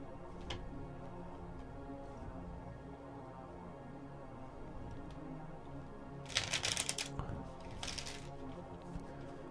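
Cards riffled together in quick crackling bursts, a couple of short shuffles standing out from a low, steady background hum.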